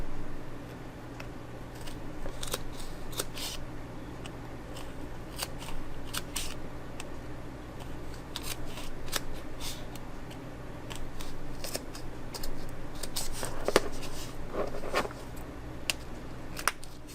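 Scissors snipping through a pen holder pattern in quick, irregular bursts of close, crisp cuts over a quiet background.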